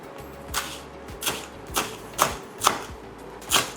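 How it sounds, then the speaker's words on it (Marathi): A knife chopping fresh chivli leaves and stems on a board, with six or seven evenly spaced crisp cuts in a slow, steady rhythm and no talking. "याला छान बारीक चिरून घेऊ आपण."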